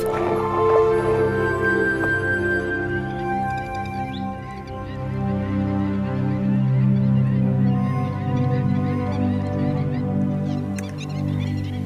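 Fowl and geese honk and call in a dense, continuous chorus in a bird village near Udaipur, loud and close with many overlapping voices throughout.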